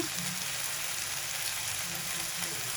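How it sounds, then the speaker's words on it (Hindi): Keema mince with salt is stirred in a hot pan, giving a constant loud sizzle and frying hiss. Soft scraping from mixing runs underneath, and nobody speaks. "इन चीज़ों को हम अच्छी तरीके से मिक्स करेंगे"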